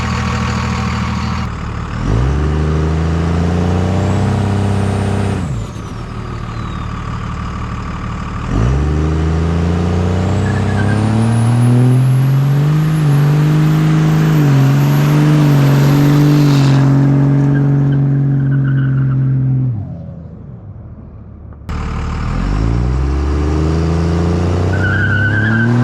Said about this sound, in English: we gotta try doing a little burnout with the truck with these small tires on